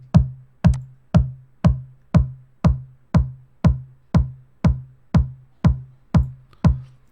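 The Devastor distortion plugin, threshold set to zero, sounds as a distorted percussive hit repeating about twice per second, each hit with a sharp attack and quick decay, loud and alone.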